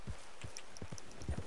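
A horse walks in Red Dead Redemption II, with soft, distinct hoof clops in an uneven walking rhythm over quiet game ambience.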